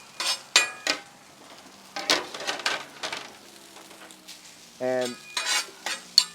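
Zucchini, onion and mushroom with Taiwanese noodles sizzle on a hibachi griddle while a spatula scrapes and clinks against the metal in short bursts, and a voice speaks briefly.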